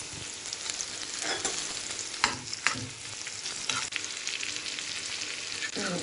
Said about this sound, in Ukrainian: Спочатку смажимо сало.